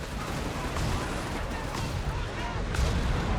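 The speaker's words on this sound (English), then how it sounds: "An impressive rocket strike there from Dumais in support of Kitsune" A rocket strike in Company of Heroes 3 sets off a dense, continuous rumble of explosions and battlefield fire, loud throughout with heavier blasts toward the end, with voices underneath.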